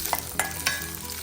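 Close, loud sizzling of vegetable sagu curry in the pan as garlic goes in, with three distinct scraping stir strokes cutting through the continuous frying hiss.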